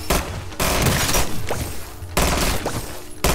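Loud bursts of automatic gunfire from Modern Warfare 3 Zombies, three dense volleys separated by brief gaps, close and continuous with booming low end and no talk.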